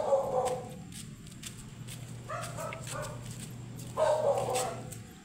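A puppy barks repeatedly in short yips near a gate outside a home, with a few louder bursts toward the end and faint voices in the background.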